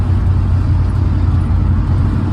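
A small 302 engine lugging in last gear at around 2,000 RPM gives a steady, deep low rumble with a droning hum, constant and close throughout, no voices.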